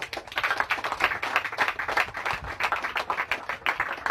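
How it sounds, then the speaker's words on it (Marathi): Congregation at a church sermon breaking into sustained, vigorous applause, a dense wash of many hands clapping steadily for several seconds with no speech over it. "जोरदार टाळ्या वाजवा"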